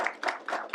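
A few pairs of hand claps, close and fairly quiet, for a guest at an arts centre talk, in a brief uneven rhythm.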